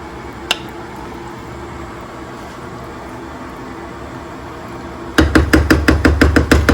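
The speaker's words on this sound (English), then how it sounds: "And now we're just going to give it a quick stir." A quiet simmering pot gives way to a quick burst of rhythmic scraping and clacking as a utensil stirs cassava leaves and beans, about a dozen strokes near the end.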